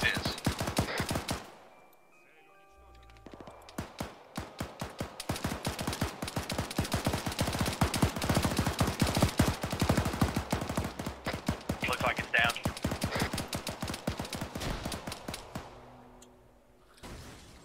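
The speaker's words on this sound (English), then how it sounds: "These guys are taking fire from God knows what." Sustained gunfire in an Arma game scenario, dense rapid bursts of automatic fire crackling loudly for most of the stretch, with short pauses and a few heavier blasts among the shots.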